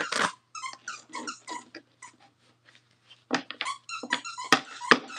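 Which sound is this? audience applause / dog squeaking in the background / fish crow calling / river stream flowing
dog squeaking in the background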